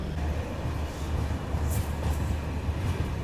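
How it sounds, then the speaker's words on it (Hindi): The ANVT Rewa Superfast rushes past during an overtake, a loud, continuous rumble of wheels and carriages close by. "fifth overtake ANVT Rewa superfast"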